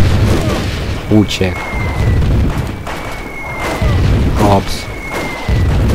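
Heavy booming cannon fire in the war game Army Men: Sarge's War, deep thuds under a steady battle rumble, with someone talking over the action.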